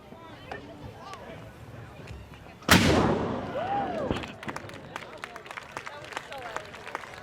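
A ceremonial cannon at a Fourth of July celebration in Fairhaven fires its fifth shot: one sharp, loud boom that rolls off into a fading rumble, with outdoor crowd murmur and scattered voices before and after.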